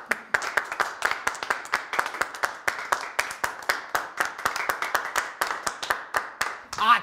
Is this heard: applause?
yes